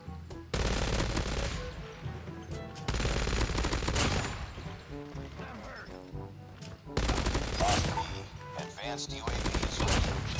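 A Hades legendary LMG fires in a first-person shooter video game, with long, loud, rapid bursts of automatic fire broken by short pauses and quieter in-game sounds between them.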